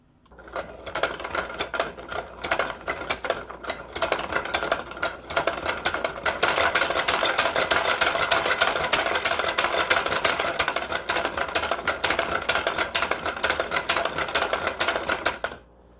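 A hand-cranked mechanical toy, with gears and pegs pushing a yellow bar back and forth, clatters in a loud, rapid, continuous rattle that ramps up after a quiet start and runs steadily until it stops near the end.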